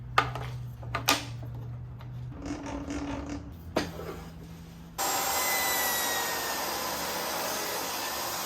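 A table saw fitted with a stacked dado blade runs through wooden boards, rails and stiles: a steady loud whir after a few short bursts of bumps and rubbing, continuing alone without talk.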